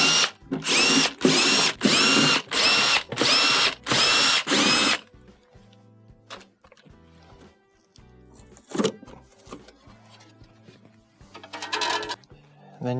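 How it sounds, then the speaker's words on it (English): A power drill whirs in about seven loud, regular bursts as it backs screws out of a GE refrigerator's electronic control board panel. Quieter clicks, taps and small clatters follow. "To remove your control board, first start by removing the screws that hold the panel on."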